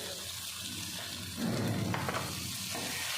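Soft sizzling of spices, turmeric, red chili, black pepper and salt, frying in ghee in a pan, a quiet crackle that swells briefly in the middle.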